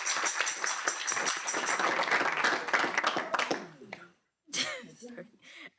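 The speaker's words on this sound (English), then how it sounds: "I just want to give a round of applause for our performer" Audience applause for a performer at an institute launch event, a dense burst of clapping lasting about four seconds, then a pause and a shorter second flurry, fairly close and moderately loud.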